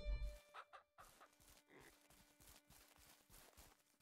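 A chicken in the farming game Ranch Simulator clucks in a quick, choppy series of calls with soft footsteps scattered through, close and clear, with no talking.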